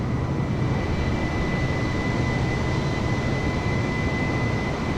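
Airliner taking off and climbing in Microsoft Flight Simulator, a steady loud roar of jet engines with a faint high whine, constant and unbroken throughout.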